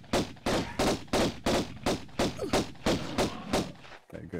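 Pistol shots from a video game speedrun set in Greece ring out in a steady series of about ten sharp, evenly spaced reports, loud and close, with no talking.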